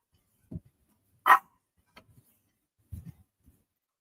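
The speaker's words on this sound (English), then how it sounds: "Bloody dogs." Dogs indoors give a few short, sharp barks and yips, one louder bark near the middle and quieter ones around it, separated by silence.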